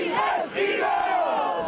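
Eagles fans outside at an airport in the rain chant and cheer in a loud, rising and falling crowd shout for the team's Super Bowl sendoff, many voices close together.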